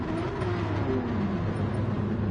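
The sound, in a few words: Corvette C7 race car engine, video game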